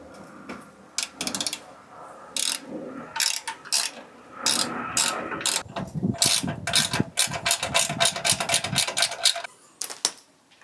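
A ratchet drives self-tapping bolts into untapped radiator support holes on a 1968 Mustang Fastback, with rapid close clicking in repeated bursts and a long steady run of ratcheting near the end, no talking.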